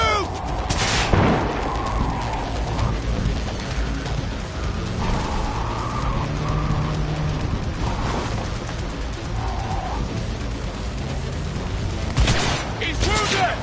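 Gunfire in the Cyberpunk 2077 video game, several loud sharp shots and bursts over a dense din of combat noise, with shouting voices mixed in.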